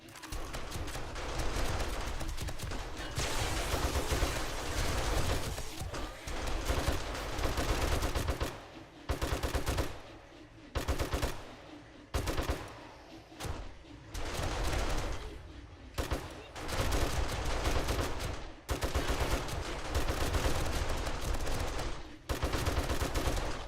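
Turret gunfire in the video game 7 Days to Die, sustained automatic bursts that come in repeated loud volleys separated by short gaps, with no talk over it.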